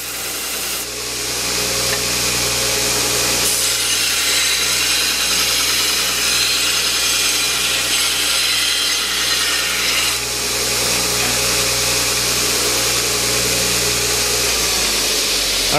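Metal stock for a clawfoot tub shower enclosure is cut with a power saw, a loud, steady, continuous grinding rasp that runs unbroken for about sixteen seconds with no talking.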